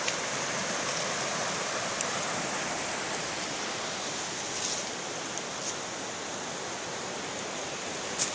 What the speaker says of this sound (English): Creek's down here.